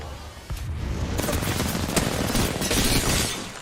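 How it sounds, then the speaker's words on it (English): Gunfire in Apex Legends, a dense, loud burst of rapid shots and impacts that starts after a brief lull and continues in a sustained, crackling fusillade. "Listen up, I'm getting shot at."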